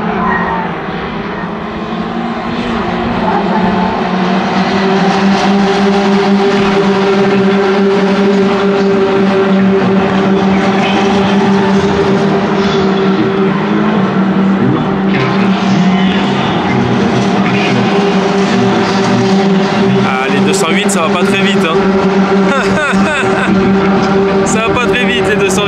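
Peugeot 208 race cars lapping the Paul Ricard circuit, a loud continuous droning engine sound with steady tonal whine from cars passing at a distance, under talking voices.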